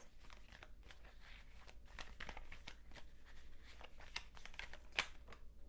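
Tarot cards shuffled for a love reading give a quiet, steady papery riffle and rustle, faint and close, with one brief sharper snap near the end and no voice over it.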